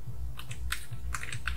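Computer keyboard keys tapped while typing a line of JavaScript code, a short run of quick clicks and clacks close up over a low steady hum, with no speech.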